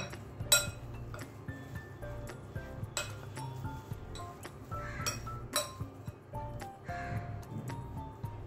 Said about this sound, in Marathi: आता हे सर्व जिन्नस आपल्याला छान मिक्स करून घ्यायचे आहे।